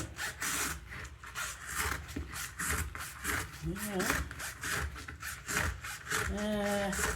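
A used oil filter of the type fitted to Honda products is cut open by hand, a steady close rasping saw-like scraping in back-and-forth strokes, with brief higher squeaks of metal and a voice talking over it.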